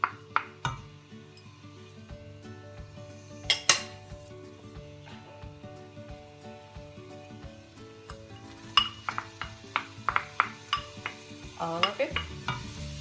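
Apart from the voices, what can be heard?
chopped onion added and stirred in frying pan for beef rendang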